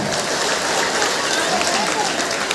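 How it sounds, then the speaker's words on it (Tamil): Audience clapping at a temple lamp pooja (vilakku pooja) gathering, a dense, steady patter of many hands filling the whole stretch, fairly loud and continuous. "கைத்தட்டுங்க"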